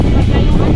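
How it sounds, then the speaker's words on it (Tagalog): Strong wind buffets a microphone on an open uphill road, a dense, roaring low rush with no clear voices. "Sarap, lakas ng hangin."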